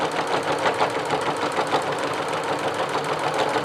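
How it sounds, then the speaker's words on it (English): A Janome MC 9000 sewing machine sews through 16 layers of fabric, giving a steady, fairly loud mechanical hum with a rapid even needle rhythm throughout. "Look how nice it sews."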